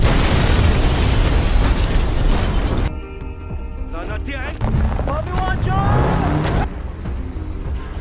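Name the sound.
explosion of a building bombed with Molotov in a film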